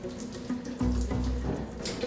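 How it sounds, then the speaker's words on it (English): Seawater from a 1-kilometre-deep ocean sample pours and gushes out of a CTD rosette sampler aboard a research ship near Antarctica, a steady close splashing rush with a heavier surge midway. "The rosette, as it's called, comes up brimming with water."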